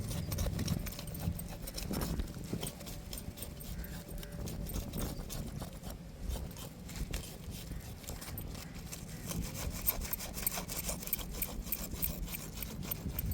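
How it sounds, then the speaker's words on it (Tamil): A knife scrapes the gills of a parai fish, a trevally, in a series of faint, quick, rhythmic scratching strokes close by over a quiet background. "இப்படி தாங்க செவில் சுரண்டணும்"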